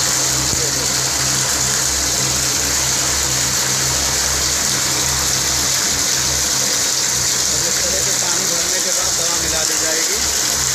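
Water rushing into the tank of a tractor-driven sprayer used for mango orchards, a continuous loud gush over the steady hum of an idling engine and pump, with someone speaking briefly.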